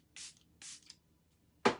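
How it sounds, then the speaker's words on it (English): Setting spray from a Stay Spray bottle is misted onto a face in a few quick hissing bursts, two soft sprays close together and a sharper one after a pause, quiet and close. "You can spray it on your sponge and set it, or you can just spray it on your face."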